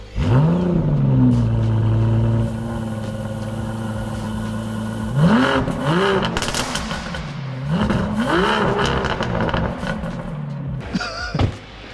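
An Aston Martin DBS 770 Ultimate Volante engine revving hard in a series of loud, close blips, each rising and falling, with a long opening rev followed by several shorter bursts and pauses between.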